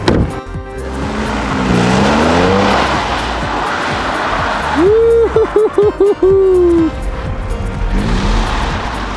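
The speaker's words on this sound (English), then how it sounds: "We're gonna be driving an Audi S5 and doing basically donuts in the snow." Audi S5 doing donuts in the snow, a loud engine revving and surging in rising and falling waves, close by, with voices and shouting over it.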